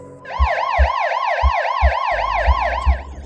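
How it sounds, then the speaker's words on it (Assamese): An ambulance siren wailing in a rapid, regular up-and-down sweep, loud and continuous, with low rhythmic thumps beneath it. "এম্বুলেঞ্চ।"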